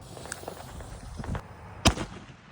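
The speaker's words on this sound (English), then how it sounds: "This is my favorite firework." A firework goes off outdoors with a single sharp, loud crack after a few faint scattered pops and rustles, then fades into quiet.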